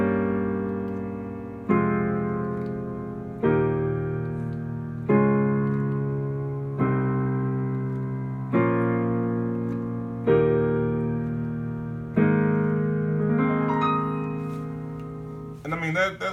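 A diatonic chord progression of sustained chords struck one after another, each ringing and fading before the next, stepping downward in pitch; clear and close, no talking.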